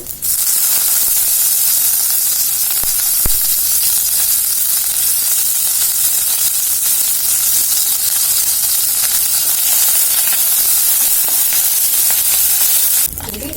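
Curry leaves hit hot oil with urad dal, setting off a loud, steady, close sizzle that holds evenly for over ten seconds before cutting off.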